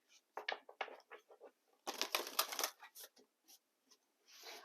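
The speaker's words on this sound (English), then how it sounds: "so let's do some shuffling" An oracle card deck is shuffled by hand in irregular bursts of crisp riffling and sliding card noise, close and fairly quiet, with pauses between bursts and no talk.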